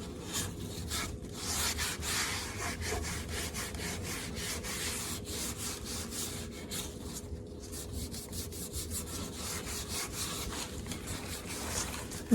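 A cloth wipes back excess finish on a wooden rocking chair in a steady, continuous rubbing. Rhythmic back-and-forth strokes continue throughout with no pauses or voices.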